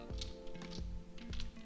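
Keystrokes on a computer keyboard during Python coding, several quick taps in an irregular rhythm, close and fairly quiet, with no voice.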